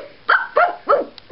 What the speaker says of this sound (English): A few high barks in there.